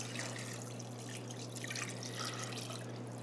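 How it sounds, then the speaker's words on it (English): Two cans of chicken stock poured into a pot while making chicken manicotti, a steady liquid trickle and splash under a constant low hum. "now 2 cans"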